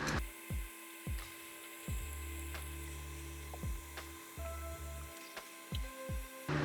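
A ratchet wrench works 10 mm bolts loose from a relay board during a K24 swap in a BRZ: bursts of rapid ratcheting clicks alternate with short pauses and faint metallic taps, quiet and close.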